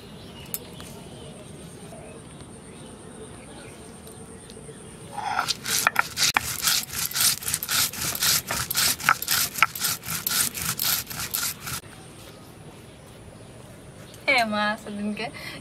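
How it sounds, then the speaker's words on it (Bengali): Cumin and coriander are ground together by hand, a brisk run of rhythmic rasping strokes lasting several seconds after a quiet stretch, followed by a short burst of birdsong or cooing near the end. "জিরে আর ধনেটা একসাথে বেটে নেব।"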